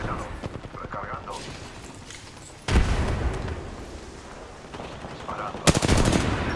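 Rapid video-game gunfire erupts in repeated bursts, loud and close, with heavy blasts around the three- and six-second marks, along with faint game voice callouts.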